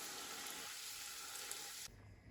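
Soft, steady hissing of verhuny, kefir dough pastries, frying in hot oil, a faint continuous sizzle that drops slightly quieter near the end.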